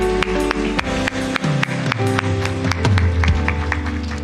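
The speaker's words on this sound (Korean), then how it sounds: "우리 그 하나님께 영광의 박수 한번 올려드리겠습니다" Church congregation clapping in praise during a Sunday worship service, steady rhythmic claps mixed under sustained music and organ-like chords.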